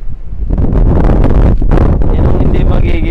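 Loud, close gusts of wind batter and flap against a tent at a riverside campsite in a continuous roaring rush, swelling and dipping briefly.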